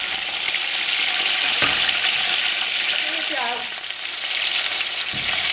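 Chicken pieces fry in a pan with a loud, dense sizzle and crackle, close up, while a few stirring scrapes and clinks cut through the steady hiss.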